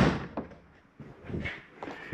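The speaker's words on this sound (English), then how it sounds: "close our door so we can hear." A door on a 2021 Columbus 366RL fifth-wheel RV swings shut with a few close, muffled knocks and thuds, followed by faint handling noise and no talking.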